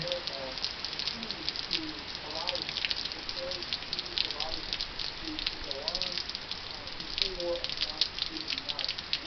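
Steady, dense rain pours down with a constant broadband hiss and scattered spatters, while faint voice-like tones murmur underneath.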